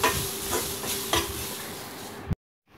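Ground masala paste is stirred in a sizzling frying pan, with a few sharp scraping strokes over a constant fry hiss before the sound cuts off to silence.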